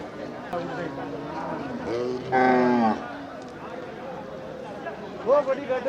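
Cattle at the Manapparai livestock market moo loudly, one long nearby bellow in the middle and another call at the end, over a busy background of people talking.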